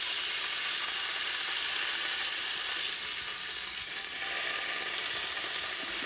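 Bacon sizzling on the griddle plate of a Ninja Foodi grill, a steady close crackling hiss that barely varies over several seconds.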